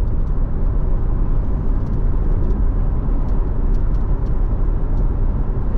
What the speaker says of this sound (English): We do have a good amount of road noise from the tires, so it's not the quietest cabin.